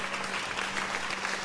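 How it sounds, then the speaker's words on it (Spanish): Applause at a live Christian choir worship service, offered in praise of the Holy Spirit, rises as a steady, even wash of clapping for a brief moment with no voices over it. "los aplausos para el Espíritu Santo"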